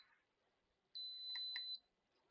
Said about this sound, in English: Sorry about that beeping.